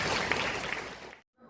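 A short burst of audience applause for a young girl at a singing gathering, a brisk spatter of hand claps that cuts off abruptly and then resumes faintly.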